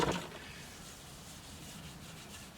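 Vegetable oil rubbed onto the metal of a garden shovel, giving a quiet, steady cloth-on-metal rubbing that runs alone for a few seconds after a slightly louder start.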